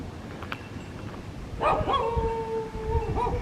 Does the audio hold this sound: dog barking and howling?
yes